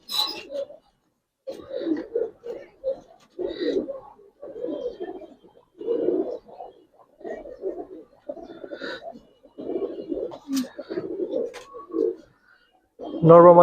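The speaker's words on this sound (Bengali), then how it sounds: "একেবারে পুরান জাতের কবুতর দেখেন" Old-breed Bagha pigeons cooing in a loft, repeated soft throaty coos in short rhythmic bouts with gaps between, fairly close.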